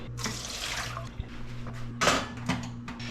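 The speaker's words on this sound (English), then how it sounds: "There's too much water. Let's pour some out, start boiling." Excess water poured out of a pot on a home stove before cooking instant noodles, a close, continuous splashing stream with a few louder gushes.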